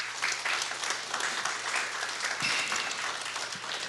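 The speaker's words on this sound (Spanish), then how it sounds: "Vamos a darle un fuerte aplauso" A church congregation gives a warm round of applause, continuous even clapping from many hands at moderate distance, with a low hum underneath.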